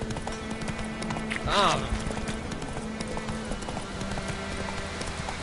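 Roach the horse gallops in The Witcher 3, rapid hoofbeats clip-clopping steadily with a brief louder snort or whinny partway through, while a voice speaks briefly over the game sound.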